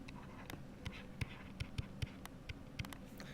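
Math being written on a board or paper with a pen or marker, faint close scratching strokes and light taps in an uneven rhythm over quiet room tone.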